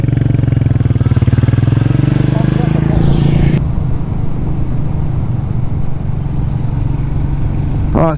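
A Royal Enfield Meteor 350 motorcycle with a 349cc air- and oil-cooled engine idles close by, its steady low thrum running throughout. A brighter rev or wind layer cuts off partway, and a voice talks over the engine.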